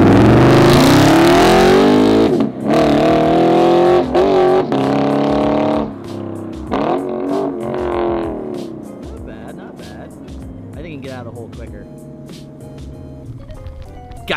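Straight-piped Lexus RC F launching from a standstill and accelerating hard, its engine roaring loud and close with rising revs, then shifting and fading as the car pulls away.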